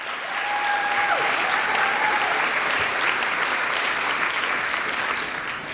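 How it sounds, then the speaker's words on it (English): An audience at Photo Night at the University of Tennessee at Chattanooga applauds the Tennessee Aquarium: a steady, dense wash of many hands clapping for nearly six seconds, with a brief high whistle-like tone early on. "can we get one more round of applause for the Tennessee Aquarium and their work saving the laurel dace?"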